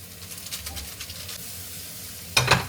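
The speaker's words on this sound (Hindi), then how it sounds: "मिलाओ आप चम्मच से मिलाओ" Noodles being stirred with a spoon in a pan over a camp stove at a trekking campsite, with a soft continuous frying sizzle, faint scraping, and a sharp metallic clink near the end.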